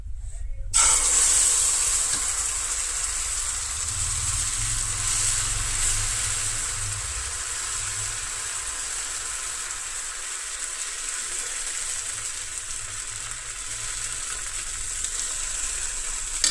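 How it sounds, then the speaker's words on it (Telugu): Dosa batter made from leftover idli batter sizzles on a hot pan, a steady close hiss of frying that runs unbroken from just after the start to the end, with no talk over it. "ఇప్పుడు ఈ కాలిన తాల్సిలో పాన్లో మనం దోశ వేసుకుందాం"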